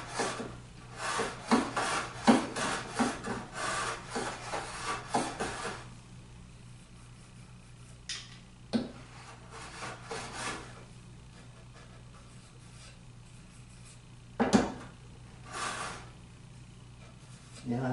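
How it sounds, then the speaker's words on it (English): A hand plane takes fine wood shavings in a quick burst of rhythmic rasping strokes up close, followed by quieter pauses with a few isolated scrapes and knocks. "Now I've got this set to take a really fine shaving as well."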